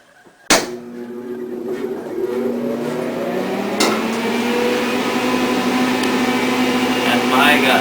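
Tanning bed machine switching on with a sharp click, then a loud steady electrical hum and fan whir that builds and holds, with a second click partway through.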